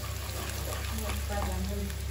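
An egg fries in oil in a pan, giving a steady, soft sizzle and crackle with a faint voice alongside.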